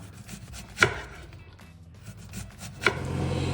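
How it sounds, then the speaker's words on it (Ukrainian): Two crisp knife chops through a large onion, slicing it into rings on a cutting board, a couple of seconds apart, close by with quiet background noise between strokes. "Велику цибулину нарізаю кільцями і не дуже тоненько."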